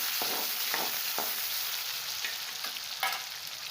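Chopped tomatoes sizzle and fry in hot oil for a spicy brinjal curry, with a steady crackle broken by scraping strokes of a spoon stirring the pan, close and alone.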